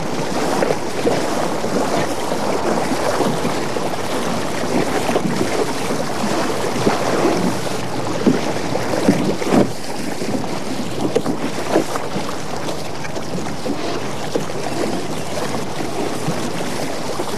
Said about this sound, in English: He's in a small canoe